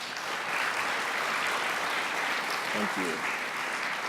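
An audience at a general session of the 2018 AG Bell Conference applauds steadily and loudly for the full length, dense sustained clapping from a large crowd, with a brief spoken thanks heard over it.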